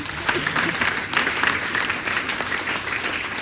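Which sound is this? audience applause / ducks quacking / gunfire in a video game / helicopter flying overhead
audience applause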